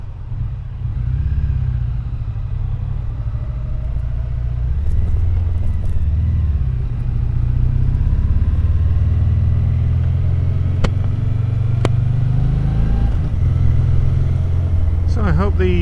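A Triumph Bonneville T120 motorcycle rumbles steadily while riding, its deep engine and exhaust drone loud and close throughout with slight swells in revs and wind noise.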